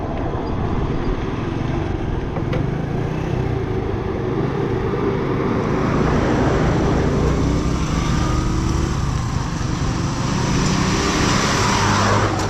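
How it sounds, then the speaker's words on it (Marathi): Steady, loud rumble of heavy truck engines grinding past nearby on a mountain road on the way to Ladakh, a continuous roar with no pauses and no voices. "आता ट्रक कसे पास होतात बघूया"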